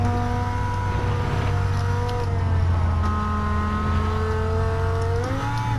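A 2002 Dodge Viper GTS laps a track in Gran Turismo, its engine a loud continuous drone rising and falling in pitch through gear changes, with no voices over it.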